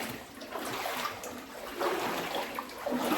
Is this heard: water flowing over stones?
yes